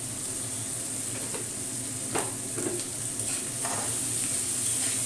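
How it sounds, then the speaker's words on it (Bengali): Steady, close sizzling of onions frying in a hot pan on raised heat, a continuous crackling hiss with a few soft clicks of stirring. "এবার আঁচটাকে আমি বাড়িয়ে দেবো, পেঁয়াজটা যেন ভাজা ভাজা হয় ভালোভাবে।"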